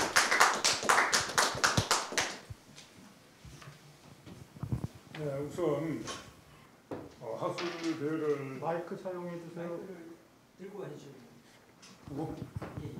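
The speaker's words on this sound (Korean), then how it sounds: "박수로 환영해 주십시오." Audience at a Korean academic conference applauds to welcome a presenter, a short burst of clapping at the start before someone speaks at a microphone.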